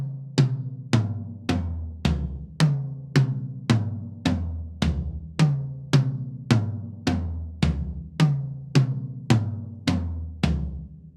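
Tom drums miked with three Beyerdynamic M201s between the 12, 13, 14 inch and floor toms, in a rock-style kit: a steady run of about sixteen evenly spaced, punchy tom hits descending and repeating, each ringing briefly, played alone.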